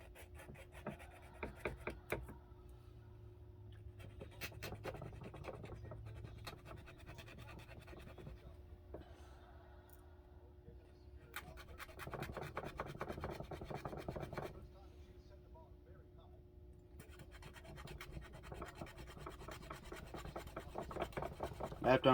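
A tiny polishing tool scrapes the burr off an extremely small handmade knife, giving a series of close, dry, irregular scratching strokes in bursts with pauses, over a steady low hum.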